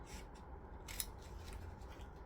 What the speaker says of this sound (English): I'm using my paper scissors